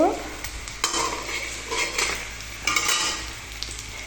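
Turmeric and cumin powder being stirred as it fries in a pan, giving a steady close sizzle with scraping strokes of the spoon recurring about every second.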